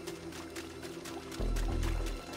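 Water sloshing and splashing as a character wades through it in Predator: Hunting Grounds, a steady watery churn that surges heavier midway, with game ambience behind it.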